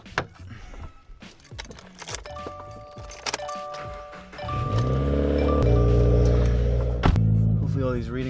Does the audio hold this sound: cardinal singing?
no